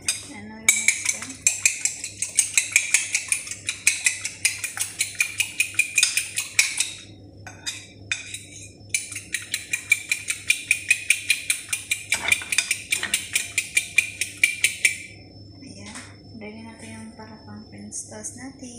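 A French toast mixture with salt being mixed in a bowl, rapid rhythmic clinking of utensil against the bowl in long bursts with short pauses, quite loud and close.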